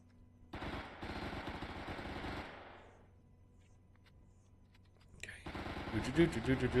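Rapid-fire weapon in the space survival game Empyrion Galactic Survival, a dense burst of shots lasting about two seconds, then a lull, then another loud stretch of fire with sharper impacts, heard alone.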